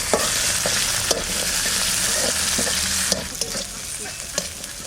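Fresh garden garlic fries slowly in a pan for Bengali rasun bhorta, a bright steady sizzle with occasional clicks of a spoon stirring it.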